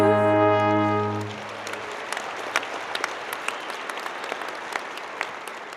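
A brass chord from the center brass band at a fall commencement ceremony rings out and fades, then audience applause takes over, a dense field of clapping with a few sharper claps standing out.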